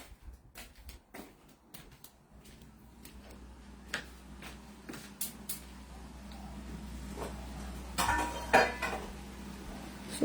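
Pots and utensils clattering in an ashram kitchen while sambharo is tempered, with scattered close metallic clinks and knocks that grow busier and louder toward the end.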